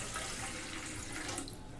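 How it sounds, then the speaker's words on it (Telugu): Water pours steadily into a cooker or steel bowl in a kitchen, a brief, even splashing stream heard close and fairly quiet, alone without talk. "దీంట్లో అయితే గ్లాస్ ఉన్నారు వాటర్ పోసుకోండి"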